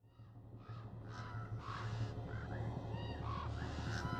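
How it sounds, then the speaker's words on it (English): A flock of blackbirds caws and honks harshly in repeated overlapping calls as they take off together, fairly close and steady over a low rumbling background. "thought Jack, just as 24 blackbirds rose into the air."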